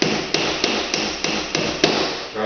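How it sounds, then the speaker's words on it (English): Nails hammered into window trim, about seven sharp, evenly spaced hammer strikes in quick rhythm, loud and close with no talking. "Drive those up. Generally you want to nail 2 nails every 16 inches or so."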